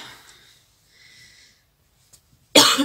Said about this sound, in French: c'est pour ça que j'arrête pas de tousser